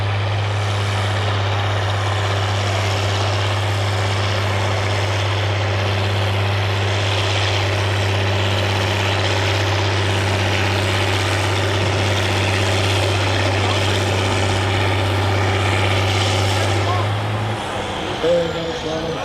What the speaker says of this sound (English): Very nice running truck.